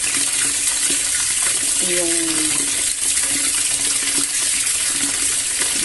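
Water pours steadily into a container already holding 200 ml of bleach, a loud continuous gushing splash that fills the whole stretch, with a brief voice sounding under it.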